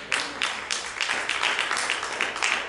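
A church congregation claps in a quick, steady rhythm, many hands together producing a lively, fairly close burst of applause-like beats with no talk.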